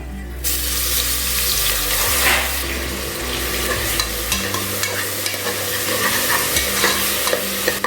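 Ground ginger, garlic and onion paste sautéing in a pan for country chicken rasam, a loud continuous hiss and sputter with stirring scrapes and a low hum underneath, heard up close without speech.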